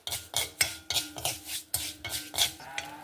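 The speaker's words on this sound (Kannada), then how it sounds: "ಒಂದು ಟೀ ಚಮಚ ಮೆಂತ್ಯ ಹಾಕೊಂಡೆ ಒಂದು ನಾಲ್ಕೈದು ಟೇಬಲ್ ಸ್ಪೂನು ಉದ್ದಿನಬೇಳೆ ಹಾಕೊಂಡಿದೆ ಇದನ್ನು ಚೂರು ಫಸ್ಟ್ ಹುರ್ಕೊಂಬ" A spoon stirs fenugreek seeds and urad dal as they dry-roast in a pan for amla chutney powder, making about nine brisk, evenly spaced scraping strokes with a gritty rattle of the seeds, close and clear with no talk.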